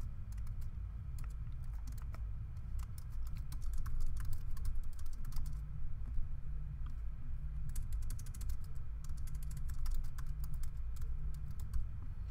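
Typing on a computer keyboard while writing an HTML exercise: rapid, irregular clusters of light key clicks close to the mic, fairly quiet over a low background hum, with short pauses between bursts.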